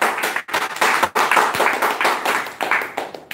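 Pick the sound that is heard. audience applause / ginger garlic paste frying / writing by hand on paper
audience applause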